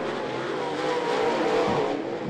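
Steel Head late model race car at I-75 Raceway roaring down the back straightaway on the final lap, a loud sustained engine drone with a rising swell near the end, no voices.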